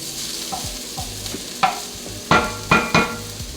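Sausage meat dropped into a hot soup pot for Tuscan white bean soup, giving several bursts of sizzling with stirring and scraping between them, close and moderately loud, with no talking.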